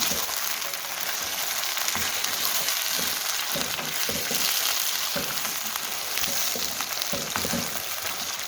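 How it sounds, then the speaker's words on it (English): Charsi chicken karahi fries steadily in a pan over a medium flame, a dense, continuous sizzle and crackle with occasional stirring scrapes, close and loud throughout with no voices. "so we fry for more 2 minutes, 3 minutes"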